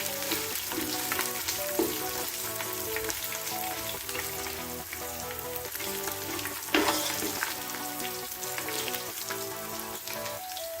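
Garlic ginger paste fried in a pan for chicken korma, giving a continuous dense sizzle like light rain, with occasional stirring clinks and no talking.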